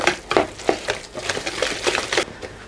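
Onion, garlic and chilli being mixed together for a kebab mixture, heard as a close run of repeated scraping and clattering strokes at a steady rhythm, with no talking.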